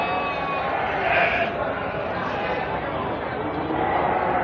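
Sheep bleat amid the bustle of a livestock market with goats, a couple of nasal calls rising above a dense, constant crowd murmur and people talking nearby.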